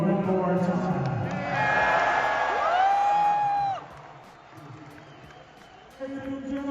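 Huge arena crowd at a WWE event in Mexico City cheering and whooping in a loud, dense roar for a few seconds before it dies down, with a voice speaking over it.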